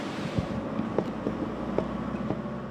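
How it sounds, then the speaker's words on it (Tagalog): Strong storm wind with intermittent rain in Aurora, Philippines roars against the microphone in a continuous rumbling blast, with scattered knocks and rattles breaking through. "nakakaranas ngayon ng malakas na hangin at panakanakang pagulan"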